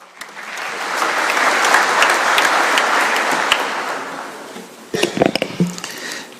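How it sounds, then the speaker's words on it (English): An audience at an international heritage conference welcomes a speaker with a broad, sustained round of applause that swells and then fades, followed by scattered louder claps and rustling near the end. "let's welcome him with a clap."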